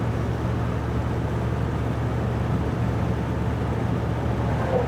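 A car engine fitted with an oversized carburetor, driving with a steady, low, continuous drone and a constant hum, heard from inside and fairly loud, with no talking.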